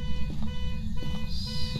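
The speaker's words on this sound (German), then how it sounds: "Dann hört das Hupen auf." Car alarm horn honking in Phasmophobia, repeated pulsing electronic honks over a low rumbling background, with faint voices underneath.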